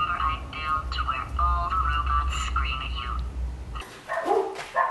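A dog barks a few times close by, high yips mixed with a person talking, over a low steady hum.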